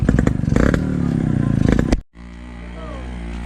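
A tricycle engine strains while climbing uphill toward a cafe in Pililla, Rizal, running loud and rough with clattering for two seconds before a sudden drop, then continuing as a lower steady drone with a speaking voice over it.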